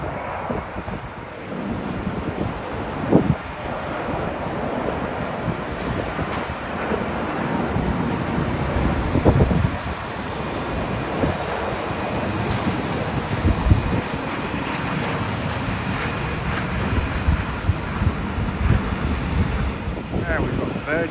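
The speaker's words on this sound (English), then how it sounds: "Glorious plane, Airbus A350." Airbus A350 airliner arriving at Heathrow, a steady broad roar of jet engines sustained for about twenty seconds under gusty wind noise on the microphone, with no talking.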